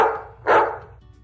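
A dog in the dog room of a vet clinic gives a couple of loud, close barks, the second sharper and stronger, then the sound fades to quiet.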